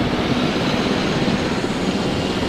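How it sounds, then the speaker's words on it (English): A helicopter flies in the video game Jurassic World Evolution, its engine a dense, steady, loud rumbling drone that holds unchanged throughout. "We can fly a helicopter."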